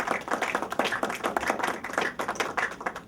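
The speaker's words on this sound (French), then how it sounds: "je vous demande d'applaudir très fort pour lui" Spectators at an African sambo championship applaud for the federation president, a burst of brisk clapping with distinct individual hand claps rising and falling in uneven pulses over a few seconds.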